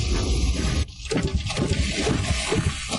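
Water gushes steadily from a makeshift steam-driven pump built from broken copper and old iron, opened at the valve to drain muddy ground; a continuous rushing, splashing flow, close and loud, with a brief dip before resuming.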